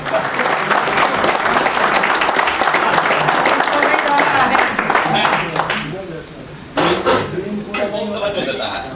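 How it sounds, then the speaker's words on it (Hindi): An audience at a one-day leadership development programme breaks into loud, dense clapping that fills most of the stretch, thins briefly, then swells again before trailing off. "फिर आप लोग किस्तों में ताली बजाते हैं"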